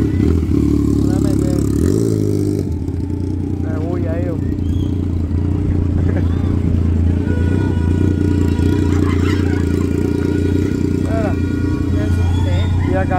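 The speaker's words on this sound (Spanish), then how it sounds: "una moto, mira una moto grosera atrás" A large motorcycle rumbles and revs behind the listener in a busy plaza at night, its engine a steady loud drone under people talking nearby.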